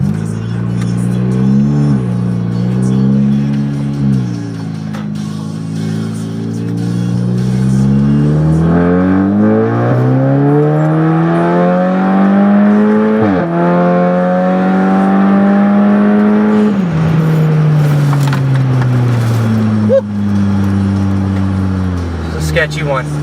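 A tuned VW GTI running a JB4 accelerates hard and kicks down, its engine note sweeping up through the gears in repeated rising pulls, loud and close from inside, with the driver talking over it.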